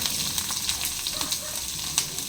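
Garlic and green chilli frying in a pan for a prawn roast, a continuous close sizzle with small crackling pops and occasional stirring, no talk.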